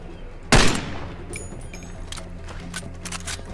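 A single loud, close Desert Eagle pistol shot cracks out in the Far Cry 2 video game, followed by a ringing tail, faint scattered distant gunfire and clicks.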